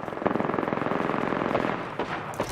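Rapid automatic gunfire in the Apex Legends battle royale shooter, a steady machine-gun burst lasting about two seconds, followed by a couple of separate sharp shots, fairly loud and with no talking.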